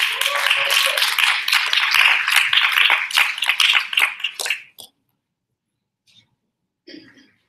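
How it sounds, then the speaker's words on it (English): A room of forum attendees applauding panelists and a moderator coming on stage, a dense burst of clapping that runs for several seconds, thins out and stops abruptly, followed by near silence and a few faint knocks. "Let's give them a huge round of applause."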